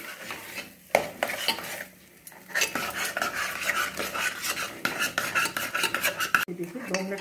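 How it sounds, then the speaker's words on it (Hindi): Vegetables and spices being roasted for sambar are stirred in a pan, with a steady run of scraping and clinking utensil strokes and a soft sizzle underneath, close and fairly loud throughout. "इसको हमें 2 मिनट इसी तरह से भूनना है।"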